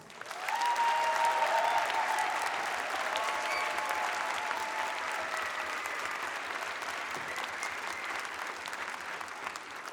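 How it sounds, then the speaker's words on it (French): An audience in an auditorium claps steadily after a children's choir concert, a dense wash of applause that starts abruptly and carries on, slowly fading a little over time. "nous pouvons encore les applaudir chaleureusement"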